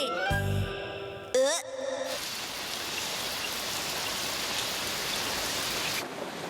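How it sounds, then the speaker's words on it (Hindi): Rain falls in a Shinchan cartoon as a steady, even hiss lasting several seconds. It follows a brief meow-like cartoon sound and a short sliding tone, and fades near the end. "बारिश की वजह से मेरे कपड़े तो सूखेंगे ही नहीं"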